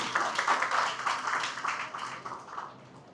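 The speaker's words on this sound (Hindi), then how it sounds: "ताली बजा दी जितनी बजा सकते हो उनके लिए" An audience claps together at a corporate training session, a dense, steady patter of many hands that starts strong and gradually thins toward the end, with no voices over it.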